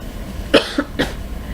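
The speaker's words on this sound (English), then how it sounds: "coughing and hacking all over everything" Three quick coughs from one sick person, close and harsh, the first the loudest, with short gaps between them and no talking.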